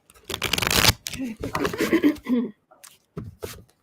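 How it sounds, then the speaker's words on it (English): Tarot cards being shuffled by hand in quick riffling bursts, crisp and close, with a person talking over and between the shuffles. "Let's do a quick shuffle"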